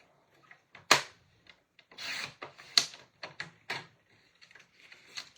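Paper trimmed on a cutter for a 6x6 inch one-sheet scrapbook layout, heard as several short scraping and slicing strokes up close, with soft rubbing and handling sounds between them.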